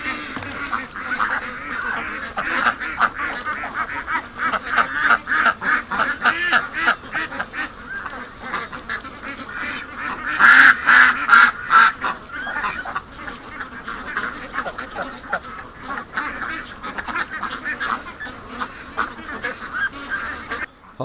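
Ducks and geese quack and honk in a busy farm flock, a steady chorus of calls that swells louder around the middle.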